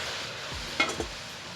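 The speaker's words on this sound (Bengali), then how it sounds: "এবার কুলগুলোকে দিয়ে দেবো কড়াইতে।" Jujube plums drop into a hot wok for pickle-making and hiss, a short burst of sizzling with a couple of sharp scrape and clatter sounds midway against a steady frying background.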